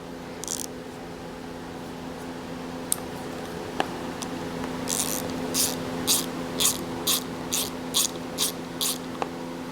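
Bicycle shop mechanic turning a ratchet on a stripped Phillips head screw: a few sharp clicks at first, then a run of regular ratcheting clicks, close and clear over a steady hum.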